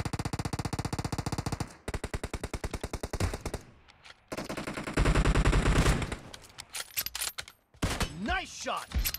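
Gunfire in a PUBG Mobile sniper-only training match: loud, close shots come in fast strings and bursts, broken by brief pauses.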